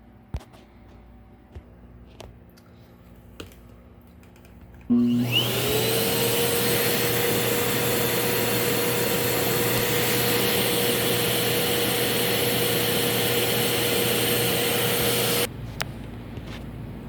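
A Kenmore Magic Blue vacuum cleaner switches on with a rising whine and runs loud and steady for about ten seconds before cutting off abruptly, with light handling clicks before and after; no one speaks.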